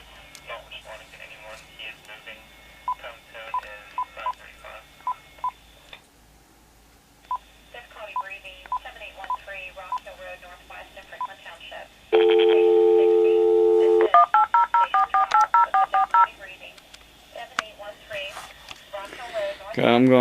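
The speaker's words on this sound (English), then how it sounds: "I'm contacting them by phone here this morning." A telephone keypad sounds a quick burst of DTMF dialing tones, beeping in steady rhythm, while someone speaks on a call for a morning phone complaint before a recorded menu voice answers.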